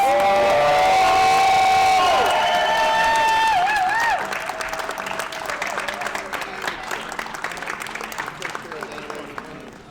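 A crowd at a Tetris tournament final cheers and whoops loudly, then settles into steady applause. Sustained shouting fills the first half, with a dense patter of handclaps that thins toward the end.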